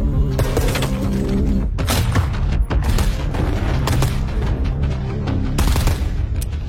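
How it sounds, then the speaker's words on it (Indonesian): A fierce shootout rages during a film raid on a drug cartel's hideout. Loud, relentless gunfire and booming impacts overlap in a dense, unbroken barrage with no pauses. "Hingga baku tembak sengit terjadi di antara mereka semua."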